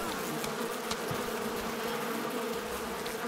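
A swarm of bees attacks in the video game Far Cry 5, a dense, steady buzzing drone that fills the scene at close range throughout, with no talk over it.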